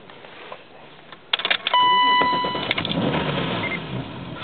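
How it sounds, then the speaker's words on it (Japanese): A BMW E34 M5 cranks and fires up close by, a short whirring starter followed by the engine catching into a steady, rumbling idle, with a faint electronic chime ringing during startup. "エンジンをかけてみます。"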